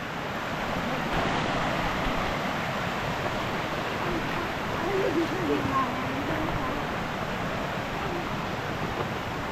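Steady broadband rush of flowing water, continuous and fairly loud, like a stream running close by with no distinct events, at the All Saints Waterfalls in Germany.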